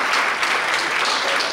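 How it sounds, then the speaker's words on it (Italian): Brief, steady applause from an audience welcoming a new school director at an education network event, evenly dense clapping with no talk over it. "Visto che è una nuova dirigente, fategli un applauso"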